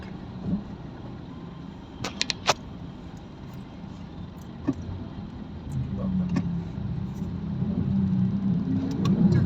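Road traffic in Bulacan heard from inside a vehicle: a low, steady engine and road rumble that swells toward the end, broken by a few brief clicks and taps.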